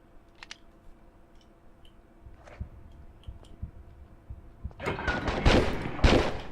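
Gunfire in the Tomb Raider 3 video game: a quiet stretch of scattered clicks and thuds, then a loud burst of rapid, overlapping shots over the last two seconds, with no talk.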